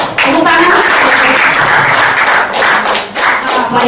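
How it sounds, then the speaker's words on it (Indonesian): An indoor audience claps loudly and steadily for several seconds at a health talk about heart care. The applause comes close and dense, with faint voices underneath. "Yuk, tepuk tangan."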